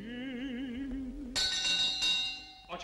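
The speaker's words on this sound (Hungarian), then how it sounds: "A csengő!" An opera bell rings out in a bright, metallic burst of clangs after a sung phrase, in a 1966 recording of Donizetti's Il campanello.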